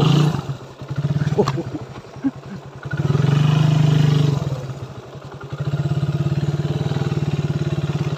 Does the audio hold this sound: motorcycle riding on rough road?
yes